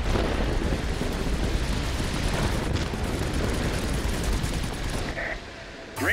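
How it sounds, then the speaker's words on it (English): An aircraft-dropped bomb exploding in a video game, a dense continuous roar of blasts and gunfire-like crackle, loud and close, cutting off abruptly near the end. "I was trying to drop a bomb in his path in order to destroy him"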